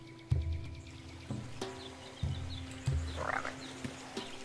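Frog croaks in the survival video game Seeds of Resilience: several short, low, throaty croaks at irregular intervals, fairly close and distinct, over a faint game soundscape with no talk.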